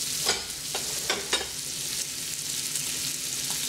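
Bacon sizzles and fries in a pan that will be used for several dishes, giving a steady crackling hiss with a few sharper pops and stirring scrapes near the start. No one speaks.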